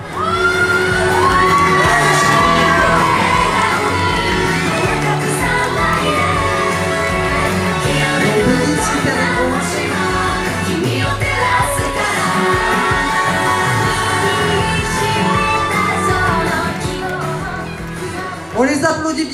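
A large convention crowd at a cosplay contest cheers, whoops and shouts loudly and continuously for small child cosplayers, children's high voices mixed into the roar, with an announcer talking over it.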